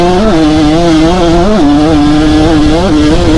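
A Kawasaki KX100 dirt bike engine riding through sand dunes, loud and close throughout, its steady buzzing drone rising and falling with repeated throttle changes and no pauses.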